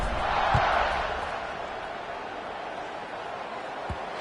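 College football stadium crowd at a Central Michigan versus Western Michigan game, a distant, diffuse murmuring buzz that swells briefly at the start and then settles, with a couple of faint thuds.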